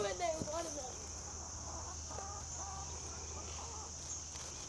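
Homestead chickens following someone carrying watermelon give several short clucking calls, soft and fairly close, over a steady high background hum.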